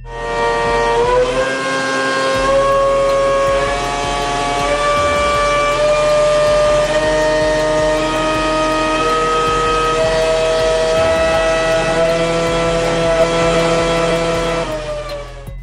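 A racing engine screams at around 20,000 rpm with a loud, sustained high-pitched whine full of harmonics. It holds near the top of its range for about fifteen seconds, then begins to fall away.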